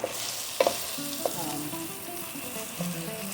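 Crumbled sausage patties sizzle steadily in a hot pan, with a few sharp clanks and scrapes of a utensil stirring the meat, close and continuous.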